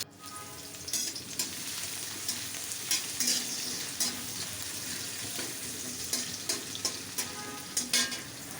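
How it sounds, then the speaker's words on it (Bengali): Chopped onions sizzle in soybean oil in a kadai, a steady frying hiss broken by repeated sharp stirring clinks and scrapes at close range. "কেটে রাখা পেঁয়াজ দিয়ে দিলাম"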